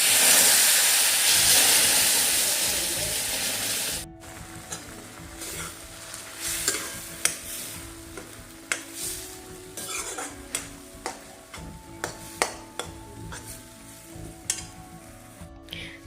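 Boiling water poured bit by bit into roasted semolina sheera cooked in ghee, bursting into a loud sizzling hiss that settles into bubbling, scattered stirring clicks and pan scrapes.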